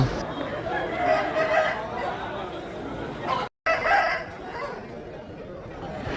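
A rooster crows in the background among other birds at a poultry market in Machilipatnam, with people talking nearby over a steady outdoor murmur.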